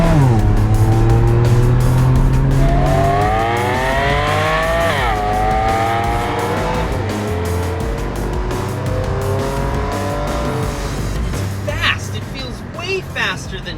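A Ferrari 456 GTA grand tourer's V12 revs hard through the gears on back roads, rising engine notes climbing and dropping with each shift, loud and close from inside the car.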